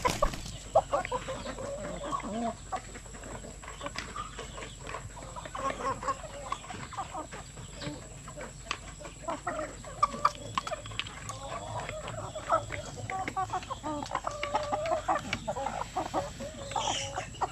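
One-month-old Zampen chicks cluck and peep in a pen, giving soft, repeated chirps and clucks scattered throughout over a faint steady background hum.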